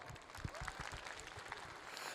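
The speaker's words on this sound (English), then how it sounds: "Round of applause." An audience at a convention Q&A claps in a scattered, faint round of applause, the crisp overlapping hand claps running steadily throughout.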